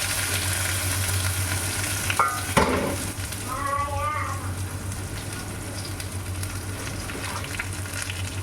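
Chopped shallots sizzle steadily in a hot pan while making fish curry, with a low hum underneath and a brief clatter of stirring partway through.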